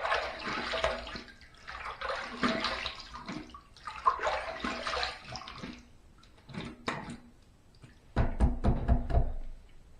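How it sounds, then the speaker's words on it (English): Running tap water splashes in a bathroom sink during a wet shave rinse, coming in bursts of gushing flow broken by short pauses, close and fairly loud. "let's rinse."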